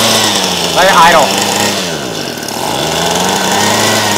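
Homelite Mightylight 26SS chainsaw with its small two-stroke engine idling close by, a steady low putter throughout, with brief faint voices over it.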